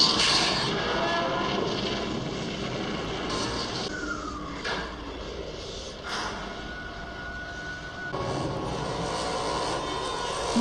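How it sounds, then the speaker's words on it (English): A spaceship engine starts up in the 1986 film Aliens: a loud, steady broadband roar with thin whining tones rising through it, continuous for about ten seconds. "They just got the engine started."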